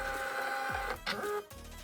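A shipping label printer feeds and prints a label in an office, giving a brief mechanical whirring and clicking burst that stops and restarts, close and clear.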